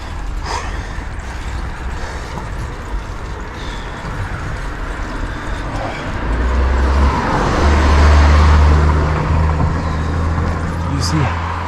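On a steep road on a tough cycling route, a car approaches and rumbles past, its low engine drone swelling to a loud peak midway and then fading, with wind noise and a voice talking over it.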